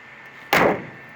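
The hood of a 2005 Ford Excursion slams shut once, a single sharp, fairly close thud with a short decay over faint background hum.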